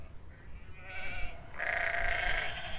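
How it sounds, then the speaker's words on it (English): A rustic Mediterranean goat on a volcanic Italian island gives a faint, drawn-out bleat, wavering and nasal, rising into a stronger second call against quiet outdoor background. "a rustic, frugal Mediterranean goat just like this"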